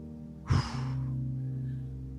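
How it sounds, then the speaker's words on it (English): A person breathes out once during a guided meditation, a short breathy exhale near the middle over a soft sustained flute-like tone that continues afterward. "breathing out."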